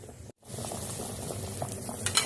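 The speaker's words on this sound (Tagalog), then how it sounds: "sobrang kulo na niya" A pot of pork belly bubbles at a vigorous boil, a continuous rolling gurgle after a brief silent gap at the start, with a few faint clinks near the end.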